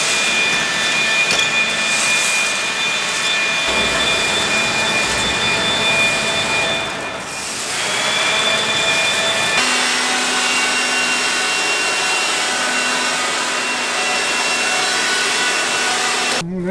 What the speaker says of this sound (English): I'm going to grab the leaf blower, a shovel, and a broom.